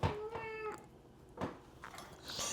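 A house cat gives a single quiet, drawn-out meow, then makes some faint shuffling sounds in a calm indoor room.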